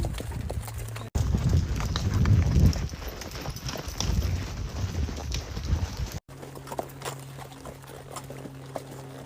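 Horses walking along a scenic trail give off a steady rhythmic clip-clop of hooves close by, with some rustling and handling noise and a brief cut midway.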